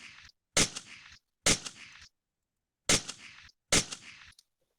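Four sharp, loud shots from a Barrett M107 rifle in the World of Guns game, each a cracking blast with a short decaying tail, fired in two quick pairs separated by a brief pause, with no talk.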